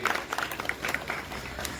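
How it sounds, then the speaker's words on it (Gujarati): A crowd claps continuously at a village groundbreaking ceremony for development works, a dense patter of many hands at a moderate distance, with no talk standing out. "આપણે તાળીઓના ગડગડાટથી વધાવી લઈએ"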